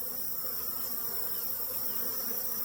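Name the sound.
agitated honey bees buzzing from a caught swarm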